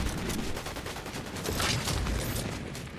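Rapid gunfire and a fusillade of shots in the Fortnite battle royale game, dense and continuous across the whole stretch, with a brief louder burst in the middle and no talking.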